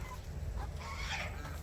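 Desi hens on a goat and poultry farm cluck softly, a few faint calls over a steady low background rumble.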